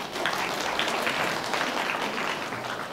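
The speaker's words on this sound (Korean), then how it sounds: "여러분 다시 한번 박수 부탁드립니다." Audience applause at a Korean school admissions information session, a dense steady clapping from a large crowd that stays loud and unbroken throughout.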